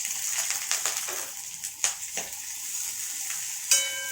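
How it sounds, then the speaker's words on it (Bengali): Chopped onion hitting hot white cooking oil in a pan, giving a steady bright sizzle with a few stirring scrapes and small knocks over about four seconds, close up and with no speech. "এবার আমি পেঁয়াজ কুচিটা দিয়ে দিচ্ছি তেলে"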